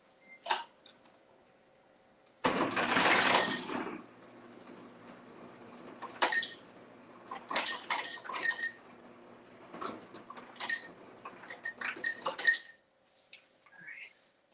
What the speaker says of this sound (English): So let's get some ice.